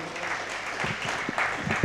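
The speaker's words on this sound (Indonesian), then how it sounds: "Tepuk tangan Pak Gubernur." An audience claps for the Governor of East Nusa Tenggara at the launch of a Kupang–Dili cross-border transport route, a faint, loose patter of scattered hands heard from a distance, with a few sharper claps standing out near the end.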